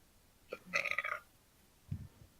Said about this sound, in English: Somebody belched.